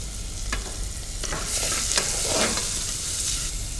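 Spring onions stirred into a pot of hot corn soup on the stove, a soft continuous sizzle with a few scraping strokes of a spoon against the pan, close and steady, with no voices.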